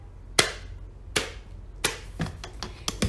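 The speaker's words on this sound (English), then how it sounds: "you can still clap your hands together" Hands clap together in a series of about five crisp, separate claps at an uneven pace, close and clear against a quiet room.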